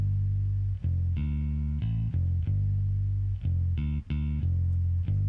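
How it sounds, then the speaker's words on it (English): A sustained, distorted Scarbee Rickenbacker bass preset called The Raven plays a rhythmic line for an R&B beat, with held notes and quick choppy note changes, loud and upfront with no voice. "For the bass, we just used a preset out of Scarby Rickenbacker, the Raven."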